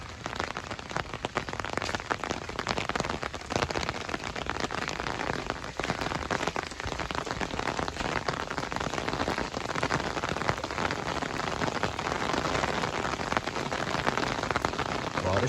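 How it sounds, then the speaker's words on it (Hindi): Heavy rain pours down steadily in Dadyal, Azad Kashmir, a dense, loud, unbroken hiss of drops striking surfaces that holds constant for the whole stretch. "बारिश भी तेज रही है"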